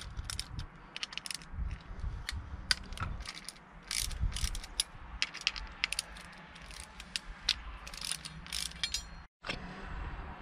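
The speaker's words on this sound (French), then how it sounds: "Vous avez juste ces trois vis à desserrer" A tool ratchets as the three chainring screws come loose on a SRAM direct mount mountain bike crankset, with rapid close clicking and metallic turning that keeps up steadily through the clip and breaks off briefly near the end.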